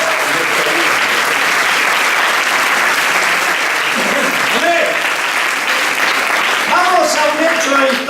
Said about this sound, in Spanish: Ahora denle un aplauso al que se quiere revelar.